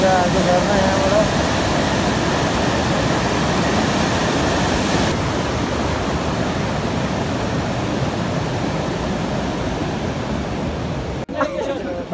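A waterfall on the trek to North Annapurna Base Camp roars loud and close, a dense, constant rush of falling water that continues until the clip ends with a short knock.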